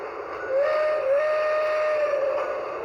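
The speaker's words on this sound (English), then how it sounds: "So let's do the whistle." A battery-powered Lionel G scale Polar Express toy train's steam whistle sounds one long, steady tone with a slight wavering pitch, close and clear over a low electric hum.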